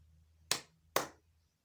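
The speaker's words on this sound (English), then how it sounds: "say a word and clap the syllables out" Two sharp hand claps close by, about half a second apart, each with a quick decaying ring, beating out the syllables of a spoken word in a quiet room.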